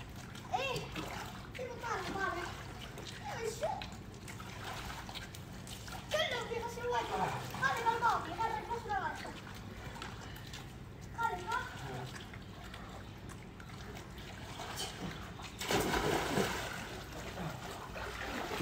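A child splashes water in a swimming pool, with intermittent splatters and sloshing under ongoing conversation between an adult and the child.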